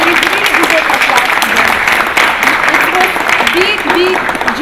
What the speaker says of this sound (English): Please, I think she is really deserving of applause.